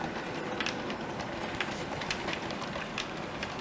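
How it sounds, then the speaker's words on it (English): A model railway train runs on track around a room layout near a fiddle yard, giving a steady, fairly quiet rolling rumble with faint repeated clicks as it passes along the rails. "So that's the train doing two loops of the room"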